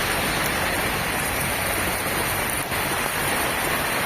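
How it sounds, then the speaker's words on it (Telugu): Heavy rain pouring steadily all around, a dense, even hiss of water falling on surfaces, close and loud throughout. "మాకైతే బాగా వస్తుంది వర్షము చూడండి"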